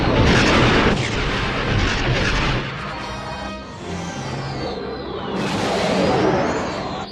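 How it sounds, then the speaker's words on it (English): Heavy blaster fire and booming explosions rumble through a Star Wars space battle at Yavin, loud and dense, with whining fly-bys sweeping across near the end. "Heavy fire, boss."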